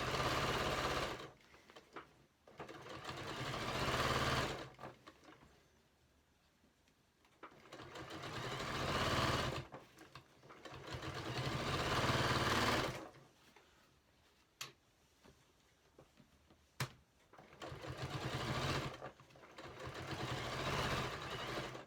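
Sewing machine stitching the handles onto a fabric storage box, running in several bursts of rapid, steady whirring separated by quiet pauses with faint ticks, fairly close and without speech.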